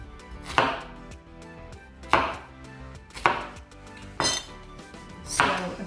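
Fruit is cut with a knife on a board, five sharp chops spaced a second or so apart, each one a crisp, close knock with quiet between.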